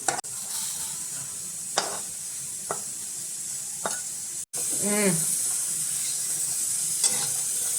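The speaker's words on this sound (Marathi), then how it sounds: "आपण बडीशीप भाजून घ्यायची चांगली खरपूस बडीशीप घ्यायची" Fennel seeds dry-roasting in a pan, a soft, faint rustle and hiss punctuated by occasional spatula scrapes and taps, near and alone with no talking.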